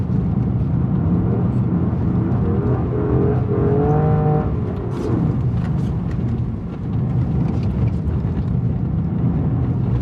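Rally car on an icy hairpin course, engine droning steadily with a short rising acceleration whine in the middle, continuous and moderately loud throughout.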